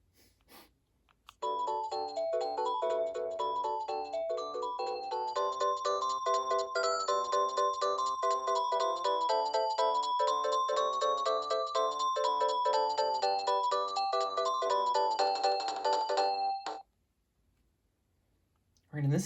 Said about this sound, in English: this is probably my favorite ringtone of all time